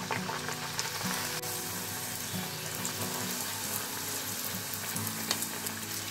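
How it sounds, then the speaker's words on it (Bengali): Luchi, Bengali puffed flatbread, frying in hot oil with a strong continuous sizzle and bubbling, close and steady with occasional light stirring sounds. "প্রথমে যে দিকটা কাটা নেই সেই দিকটা আগে ফ্রাই করে নেবে।"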